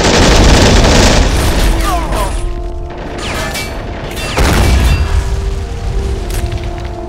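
Gunfire and heavy explosions in a military shooter video game: loud booming blasts and rattling shots, with a big explosion near the start and another midway, while voices call out over the combat.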